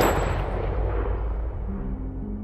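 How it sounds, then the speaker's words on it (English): A gunshot sound effect from a game trailer, heard as one loud, booming report that rings out and decays slowly over a couple of seconds with a low rumbling tail, no voices present. "And then the gunshot."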